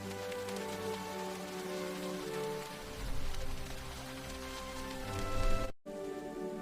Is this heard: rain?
yes